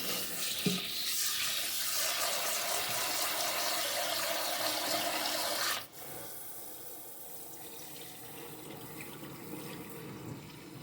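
Tap water runs steadily while rice is rinsed in a kitchen, loud and close for about six seconds, then the flow cuts off and fainter handling and rinsing sounds remain.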